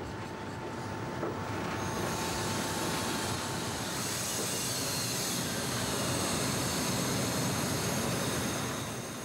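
E42 electric locomotive hauling a freight train, a broad steady rumble and rolling hiss that swells and holds, with a faint high whine early on, heard from nearby without speech.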